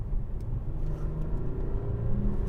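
An Audi A8 luxury saloon in dynamic sport mode pulling hard toward a national speed limit, a deep steady engine rumble and road roar heard from inside the cabin, rising slightly in pitch as it accelerates.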